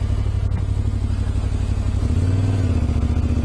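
A T700 motorcycle carrying two riders chugs along at low speed through mud, its engine a steady close rumble with a slight rise in revs partway through.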